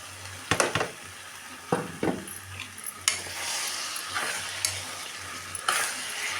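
Onions, tomatoes and potato frying in a pan, with a steady low sizzle and several sharp scrapes and clinks of a spoon stirring against the pan, close up.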